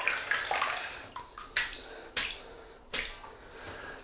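Running water from a tap splashes onto a synthetic shaving brush in a series of short, close splashes and gurgles, fairly loud, with no talk.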